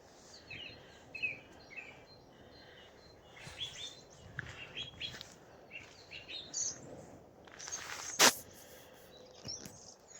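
Faint, distant birdsong of a mistle thrush, short phrases scattered over quiet outdoor air, with one sharp brief noise near the end.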